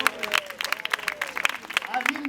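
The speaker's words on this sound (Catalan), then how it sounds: "Bon aplaudiment, que ho hem fet." People at a street theatre show applaud, a short burst of brisk clapping from the crowd, with voices talking over it.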